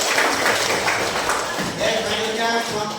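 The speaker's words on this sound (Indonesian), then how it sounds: "beri tepuk tangan untuk kawan-kawan" A classroom of students applauds a presenting group of classmates, dense steady clapping filling the room for the full three seconds and fading slightly toward the end.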